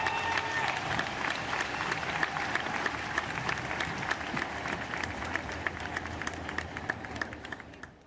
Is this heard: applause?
yes